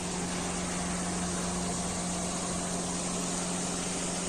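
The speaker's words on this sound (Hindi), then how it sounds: "ये है ट्रैक्टर है, ट्रैक्टर के आगे आपने देखा होगा जुगाड़ लगा हुआ है" A farm tractor fitted with a front hydraulic lifting attachment runs with a steady, loud engine drone and a low mechanical hum, unchanging and close, with no voices.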